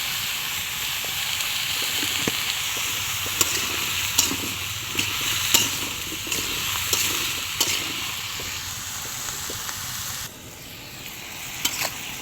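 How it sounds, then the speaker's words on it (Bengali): Bottle gourd, potato and pangas fish are sautéed with turmeric, coriander powder and salt, a steady hissing sizzle broken by repeated spatula clicks and scrapes against the pan, close up, easing slightly near the end. "হলুদ আর সস পাতা দিয়ে ধনে গুঁড়ো দিয়ে লাউ দিয়ে কষাই নিচ্ছি।"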